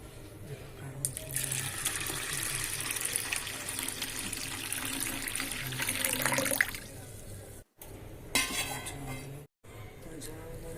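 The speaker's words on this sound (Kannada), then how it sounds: "ಇದಕ್ಕೇನದ ನೀರು ಹಾಕಿ ನೆನೆಲಿಕ್ಕೆ ಇಡೋಣಂತ" Water runs in a steady stream into a bowl of black gram (urad dal) for soaking, for several seconds, then stops; a brief second splash follows, with light clinks of dishes nearby.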